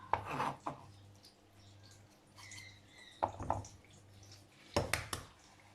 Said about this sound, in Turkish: Evet, maydanozlarımızı da ince ince hemen kıyalım.